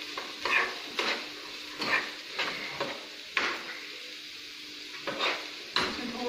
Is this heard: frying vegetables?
yes